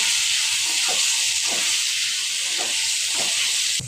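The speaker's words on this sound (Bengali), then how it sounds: "মশলাটা ভালোভাবে কষানো হয়ে গেছে। ভাজা আলু পটল দিয়ে কষিয়ে নেব।" Spices sautéing in oil with fried potato and pointed gourd give a loud, steady hiss throughout, with soft rhythmic scraping of a spatula about every half second.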